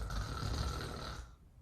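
A person imitates snoring, making one long, rough, rattling, nasal in-breath snore that lasts over a second, then cuts off into quiet.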